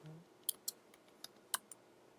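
Several sharp, separate computer keyboard keystrokes clicking in an otherwise quiet room as a command is typed, irregularly spaced and close by.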